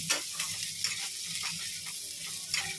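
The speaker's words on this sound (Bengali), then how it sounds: "এখানে দেখো আলু ভাজছি একটু" Potatoes fry in a pan with a steady close sizzle, broken by several scraping stirs of a utensil in an irregular rhythm.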